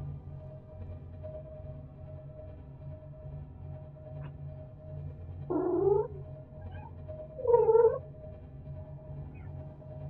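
A pet cat meows twice in a quiet room over a steady low hum, the two short calls spaced a couple of seconds apart and moderately close.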